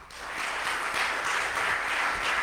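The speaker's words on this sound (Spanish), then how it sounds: "Vamos a darle un fuerte aplauso" Audience applause at a conference, steady dense clapping that holds at an even level for a couple of seconds with no voices over it.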